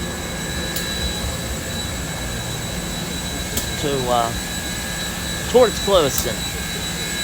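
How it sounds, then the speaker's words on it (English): The boiler of steam locomotive engine 148 on the U.S. Sugar Express gives a steady, even roaring hiss throughout, with voices speaking briefly over it near the end. "And you hear the boiler."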